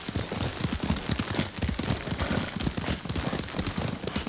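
Horse hooves clip-clop at a steady riding pace in the Ghost of Tsushima video game, a dense rhythmic patter of hoofbeats over continuous ambient noise, close and prominent.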